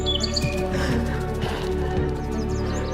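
A bird chirps in short repeated tweets over steady ambient music in the Soulframe video game, with faint clip-clop of hooves beneath.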